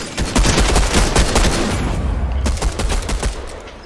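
Gunshots crack out from behind in a multiplayer shooter game, a loud, fairly close flurry of rapid shots and bursts with no talk over them.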